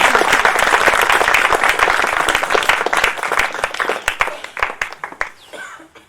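Congregation at a church service clapping together, a dense burst of applause that thins into scattered, irregular claps before fading out.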